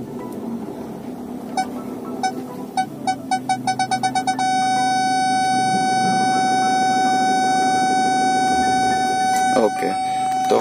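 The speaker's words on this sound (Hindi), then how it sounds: "रिवर्स पार्किंग सेंसर जो है एक्टिव है" A Ford EcoSport's reverse parking sensor beeps in quick bursts that speed up until they merge into one steady tone. The car engine hums underneath and a voice talks over it.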